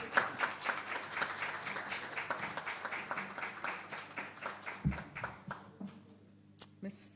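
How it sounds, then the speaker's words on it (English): An audience applauds the Principal Director at a records department ceremony in Jamaica, a sustained patter of clapping that thins out and fades toward the end, with scattered sounds and voices underneath. "Clap her for me"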